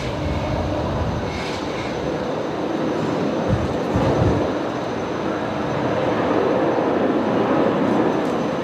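A Qantas Airbus A380 at Brisbane Airport produces a loud, continuous low rumble with rising and falling surges of engine noise across the whole stretch, heard alone.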